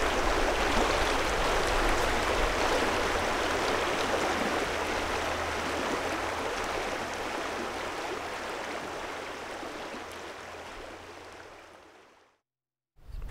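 Steady, full rushing of a river flowing in the Maluti Mountains of South Africa, close and continuous for the whole stretch, then cutting off abruptly near the end.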